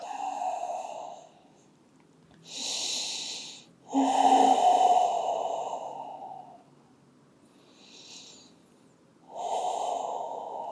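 Slow, deep breathing during a yoga inversion prep, forehead lowered onto stacked hands: several long, audible inhales and exhales close by, each breath separated by quiet pauses.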